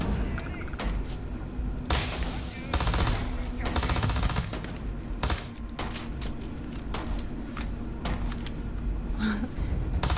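Rapid bursts of automatic gunfire from a weapon in the video game Starfield, repeated sharp volleys at close range with brief pauses between strings of shots and a small explosion mixed in.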